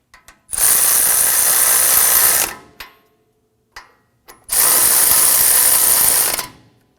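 Ratchet snugging down ball joint bolts on a 2015-2020 Ford F-150, two loud sustained bursts of rapid clicking several seconds apart, with a few short clicks and taps between them.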